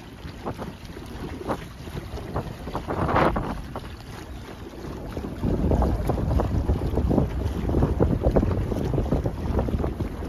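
A boat cruises across a lake, its steady engine rumble blending with gusty wind buffeting the microphone and light water noise, with no talking.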